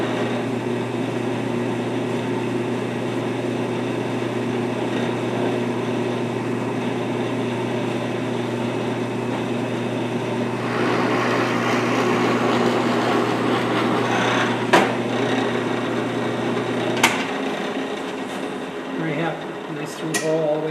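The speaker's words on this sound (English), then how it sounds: "and then I'll drill the hole." A hole is drilled all the way through a picture holder workpiece on a machine, with a steady motor hum that turns to a harsher cutting sound, followed by sharp clicks as the machine winds down.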